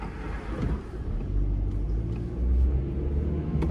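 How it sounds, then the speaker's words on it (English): Cars roll past on a suburban street in Hasbrouck Heights, New Jersey, a steady low engine and tire rumble that swells as vehicles go by close to a waiting car. "Let me let these cars go by and then I will merge into traffic safely."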